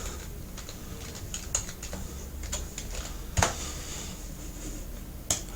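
Keystrokes on a computer keyboard while entering text into a Google spreadsheet, a few sharp isolated clicks standing out over a steady background hiss, sparse and irregular, with no voices.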